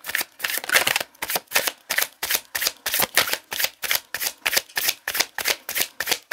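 Tarot cards are shuffled by hand in a quick, even rhythm of crisp riffling bursts, close up and alone, repeating steadily about three times a second.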